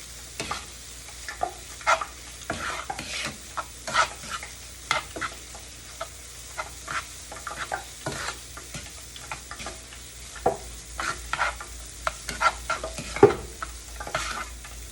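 Oil crackles and sizzles steadily in a hot pan, with sharp pops and spits scattered throughout and no one talking.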